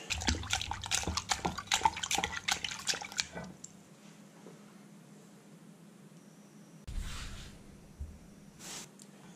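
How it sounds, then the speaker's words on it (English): Freshly caught sand smelt and mackerel being rinsed under running water after scaling, a close burst of splashing and dripping for a few seconds, then quiet with brief later splashes. "Give them a quick wash."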